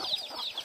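Soft, rapid clucking from turkeys in a short burst, slightly distant, with a faint background hum.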